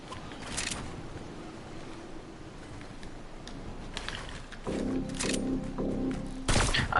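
Several bursts of video game gunfire, sharp and punchy, scattered across the clip amid mechanical game sounds and a steady electronic tone.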